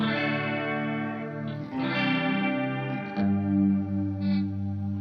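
Sustained guitar notes drone and shimmer through a Walrus Audio Fundamental Chorus pedal, a few chords ringing out and overlapping with a wavering, swirling tone, with no voices.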